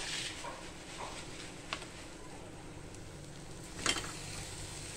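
Paneer goes into a pan of frying masala cooked in ghee and sizzles softly and steadily, with a faint stir and a brief clatter near the end.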